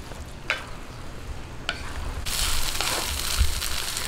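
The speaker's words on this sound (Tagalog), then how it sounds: "Huwag po natin titigilan ng halo kasi pag po natin tinigil yung paghahalo, maninikit po iyan sa ilalim" Thick biko rice cake mixture of glutinous rice and coconut milk being stirred nonstop in a pan, a few scraping strokes followed by a denser, continuous sizzling scrape, close up with no talking.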